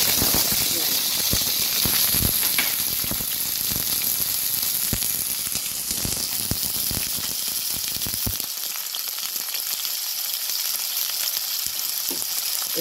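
Onion fries in hot oil in a kadai with cardamom, cloves, peppercorns and cinnamon, crackling and hissing loudly and steadily with rattling stirs, the low rumble dropping away near the end.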